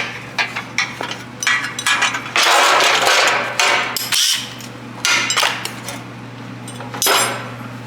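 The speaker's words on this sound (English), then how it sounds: "I'm gonna tighten the bolt." Sharp metallic clinks and clanks come from tightening a bolt on a Volvo 240 rear bumper, with short bursts of scraping tool noise and a low steady hum underneath.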